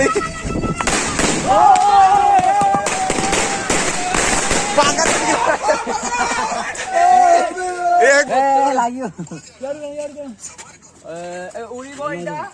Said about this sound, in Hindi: लास्ट गोटे बम फाटिव देखी पारे